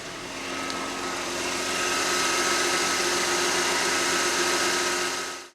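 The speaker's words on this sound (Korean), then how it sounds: "시동 걸어보자고요." A Mercedes-Benz W211 E350, recently towed in after stalling and serviced for a fuel-pump fault, runs at a steady idle: a continuous, fairly loud mechanical drone with a broad whir and no voices over it.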